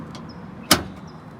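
A panel on a Toyota MR2 shuts with a single sharp, close thud, surrounded by quiet ambient background.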